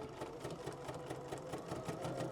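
A sewing machine fitted with an edge stitching foot runs steadily, its rapid needle strokes making a continuous mechanical whir with a fast rhythmic chatter, close and alone with no talking.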